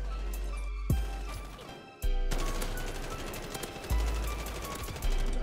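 Light machine gun fire in a first-person shooter game rattles as sustained, dense bursts broken by brief pauses, loud and close with a steady low rumble beneath.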